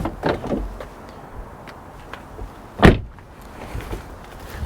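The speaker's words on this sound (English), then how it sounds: "Another pillarless door." BMW 5 Series GT frameless car door handled outdoors, with a few soft clunks and rustles and one sharp, loud thud as the door shuts midway.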